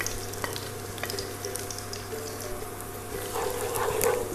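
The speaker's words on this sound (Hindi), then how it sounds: "अब हम इसमें 2 चम्मच बारीक कटा हुआ लहसुन डाल देंगे" Finely chopped garlic frying in hot mustard oil in a kadhai, a close, continuous crackling sizzle with occasional stirring scrapes, growing a little louder and busier toward the end.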